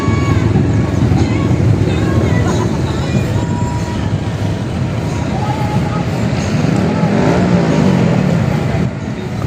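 A red-plated official car rolls forward and pulls in at a Pasig River esplanade site, its engine a steady low rumble amid constant traffic and crowd noise, with people talking nearby throughout.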